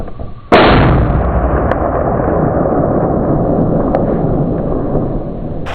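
A single loud, close rifle shot from a 7 mag or 300 Win mag fired at a blackbuck, a sharp blast followed by a long rolling echo that fades slowly over several seconds.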